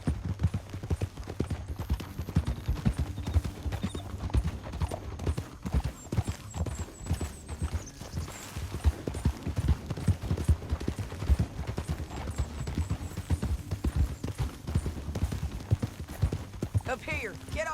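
Horse hooves clip-clopping in the Western video game Red Dead Redemption 2, a steady rhythmic trot of several horses running close by, with a brief whinny and voices talking over the hoofbeats.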